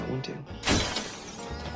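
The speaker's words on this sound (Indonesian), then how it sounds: "ada suara barang pecah dari dapur." A kitchen window shatters in one sudden crash of breaking glass, bright and close, with brief tinkling fragments trailing after, while a voice narrates around it.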